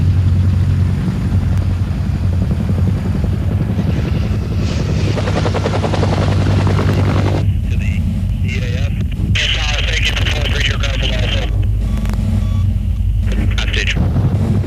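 AH-1 Cobra attack helicopters flying back toward an expeditionary airfield, a loud continuous rotor thump and turbine roar that holds steady the whole time, with a voice speaking over it.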